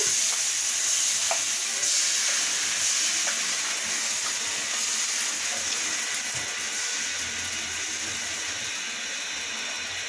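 Chita pitha, a thin rice crepe, fries in oil in a wok with a steady, even hiss and sizzle lasting the full ten seconds, close and fairly loud, with no talking.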